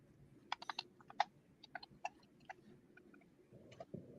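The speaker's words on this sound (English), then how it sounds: "I got a new keyboard and now I sound like an AI when I type." Crisp, clicky keystrokes patter irregularly on a mechanical keyboard, close and fairly quiet, in short bursts with brief gaps.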